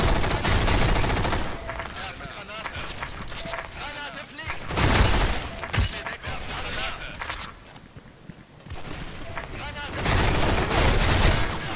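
Rapid gunfire from the video game S.K.I.L.L. Special Force 2: bursts of automatic shots with a few heavy booms, coming in waves across the clip, with quieter gaps between, under a player's talk.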